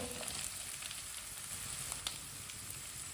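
Boiled chicken pieces frying in a pan with ginger and garlic give a faint, steady sizzle with a few soft clicks, alone and without talking.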